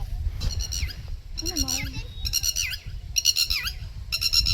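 A bird squawks in repeated harsh, nasal bursts close by at a village sugarcane field in the evening, calls arriving in uneven groups over low rumbling background noise, with a voice faintly mixed in.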